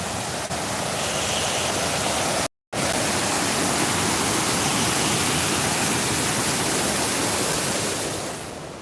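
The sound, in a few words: waterfall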